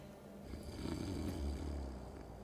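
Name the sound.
drunk character snoring in video game Tainted Grail: The Fall of Avalon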